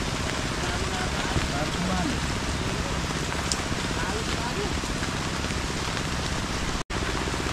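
Steady rain falls on an outdoor vegetable farm during a harvest of string beans and sponge gourds, a dense, even hiss of drops hitting surfaces that runs loud and unbroken throughout.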